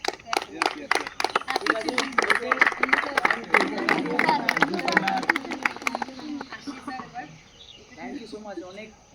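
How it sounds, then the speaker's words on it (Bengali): Children applaud for Children's Day at a cricket coaching session, a dense burst of clapping lasting several seconds before fading out, with voices talking around it. "তার ওদের জন্য একটা হাততালি"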